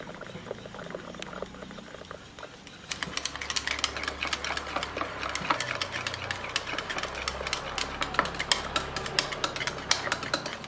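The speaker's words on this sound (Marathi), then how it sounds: "आता हे सगळं आपण ह्या दह्याबरोबर छान फेटून घेऊया" A whisk beats curd with gram flour, turmeric and red chilli powder in a bowl. The light, rapid clicking and tapping grows busier after a quieter start and stays close and faint.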